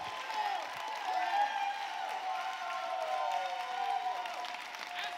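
Audience applause at a keynote speech, a steady wash of many hands clapping at close range that holds loud and even throughout, without a break.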